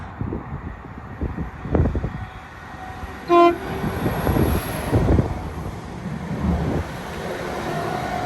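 A Northern passenger train on the Leeds–York line passes at a station, its rumble rising and fading over several seconds with a short horn-like tone near the middle, heard outdoors amid wind and road noise.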